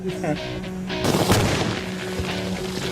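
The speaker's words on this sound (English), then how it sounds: "I'd say that was an explosion." Thermite burning on a block of ice erupts in a sudden loud explosive blast, a sharp boom followed by a roaring, crackling rumble that lingers for a couple of seconds outdoors.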